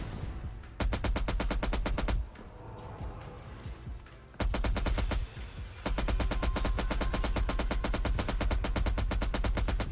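M60 machine gun fire in a video game, three long sustained bursts of rapid automatic shots separated by short gaps, loud and close.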